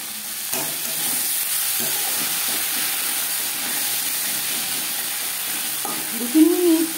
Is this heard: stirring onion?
yes